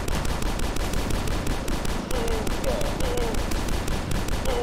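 Rapid, loud, continuous gunfire from the video game DUSK hammers away in a steady automatic rhythm, with a few brief whooshing game effects mixed in and no voice over it.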